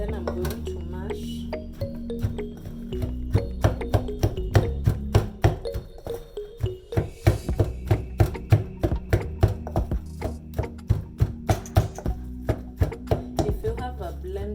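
Cooked pumpkin leaves being mashed by hand for mokimo, a steady run of firm, rhythmic pounding knocks that speeds up and grows denser over about fifteen seconds, with background music underneath.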